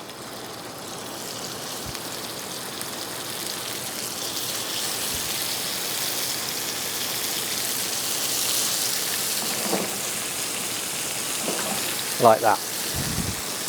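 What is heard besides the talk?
pork medallions sauteing in a pan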